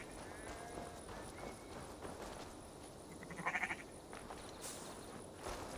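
Sheep and horses in the Assassin's Creed Valhalla video game: soft hoof clip-clops and scattered bleats over a low ambient bed, with a brief brighter tone partway through.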